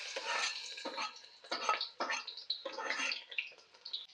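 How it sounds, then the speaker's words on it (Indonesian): Garlic sautéing in hot oil in a pan, with a close crackling sizzle broken into uneven bursts as it is stirred, bright and fairly quiet with no low rumble beneath. "Minyak, tumis bawang dia dulu."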